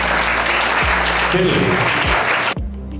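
Loud, dense applause fills a college felicitation ceremony for top-scoring students, steady for about two and a half seconds before cutting off abruptly, with a brief spoken word near the end.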